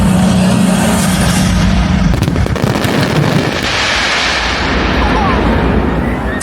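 Dense, continuous rumbling bangs and crackles of fireworks bursting overhead at Alton Towers, loud and sustained throughout, with a crowd audible underneath.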